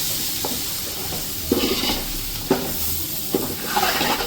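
Steady sizzling from a hot pan, broken by several soft scraping stirs at irregular intervals, with no talking.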